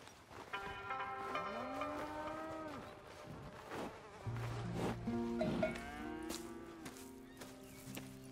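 Cattle lowing in the Red Dead Redemption video game, several drawn-out moos rising and falling over a buzz of flies and farm ambience, with a short pause before more overlapping calls.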